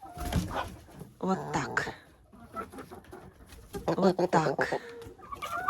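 Dark Shell hens cluck and murmur softly near a person petting them, bursts of bird calls scattered through the clip alongside a woman's speech.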